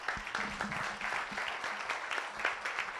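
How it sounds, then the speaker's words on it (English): A round of applause at a city council proclamation, a modest crowd clapping steadily and fairly close, with a faint voice briefly audible under the clapping. "let's give them another round of applause"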